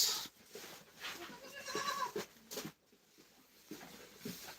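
Goats bleat on a farm, a few short wavering calls rising over a steady outdoor background at moderate distance, with no talk.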